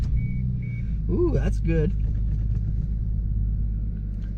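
A Toyota Supra MK3 engine turns over and fires for its first start after a fuel pump upgrade, settling into a steady rumbling idle while a voice briefly reacts during the start.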